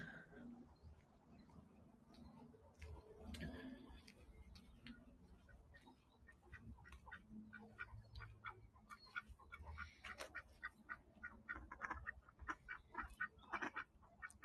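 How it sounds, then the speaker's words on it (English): Ducks at Wentworth Falls Lake in the Blue Mountains in the early morning, calling repeatedly in bursts of quacks that grow denser and louder toward the end, with outdoor ambience and some talk. "Lots of ducks out today."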